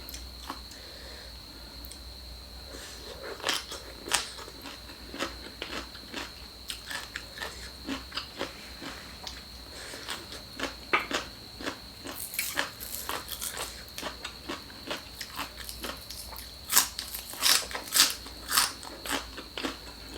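Close, crisp crunching and chewing of fresh shrimp papaya salad with large plump shrimp, irregular bites and crackles building in density toward the end over a quiet background.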